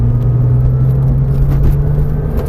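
Porsche 911 engine on the Marcoussis track drones loud and close as it picks up speed again, with a steady low rumble and a rising hum.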